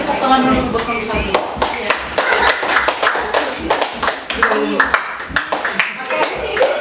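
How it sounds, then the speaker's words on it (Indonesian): Classroom clapping for a student, a loose cluster of hand claps with uneven rhythm, fairly close and loud, with sharp individual slaps standing out and voices talking underneath. "Kita kasih tepuk tangan dulu buat kamu lagi."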